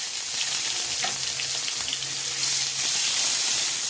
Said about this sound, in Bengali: প্রথমে একটা তেজপাতা দিয়ে দেবো, তারপর তেলেতে পেঁয়াজ বাটা দিয়ে দেবো।